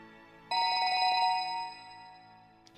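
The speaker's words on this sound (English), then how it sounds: "Unexpectedly, Maria's cell phone rang in Stanley's pocket." In the video game 428: Shibuya Scramble, a cell phone rings in someone's pocket. A bright electronic ringtone melody starts suddenly, plays clearly for about a second, fades gradually, and a faint click follows at the end.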